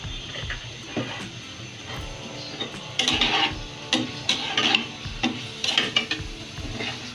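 Shrimp and ridge gourd curry gets mixed with turmeric and chili powder, a spoon scraping and clinking steadily against the pot over a low background of sizzling.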